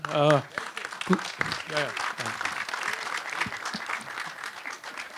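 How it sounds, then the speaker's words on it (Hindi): Applause bursts out at a Ching's Chinese Masala entertainment event with a celebrity guest, dense clapping running under steady talk and cheering voices throughout. "तालियां बज गई सर, नाम लेते ही।"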